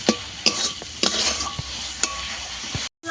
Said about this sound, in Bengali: মশলাটা আমি এমনভাবে কষাবো যেন সম্পূর্ণ টমেটো গলে যায়।